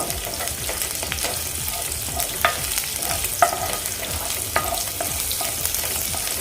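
Crushed garlic is stirred into cumin frying in oil in a pan, making a steady close sizzle with occasional scraping clicks of a spoon against the pan.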